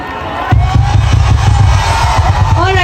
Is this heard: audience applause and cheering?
yes